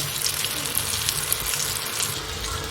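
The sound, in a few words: chicken shami kababs frying in a pan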